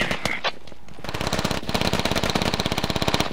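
Enemy AK rifle fire in the tactical shooter Squad: a few scattered shots, then a long, rapid automatic burst of sharp, evenly spaced cracks, moderately loud and building toward the end.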